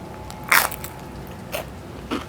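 Three crisp bites crunch into crispy meat lovers pizza cooked on a griddle, close and sharp, each followed by brief crackling chews over quiet background.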